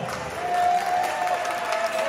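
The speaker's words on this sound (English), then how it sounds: "A round of applause" Wedding guests applaud at a reception, a brief wash of clapping from a room full of people, mixed with murmured crowd noise and faint cheering.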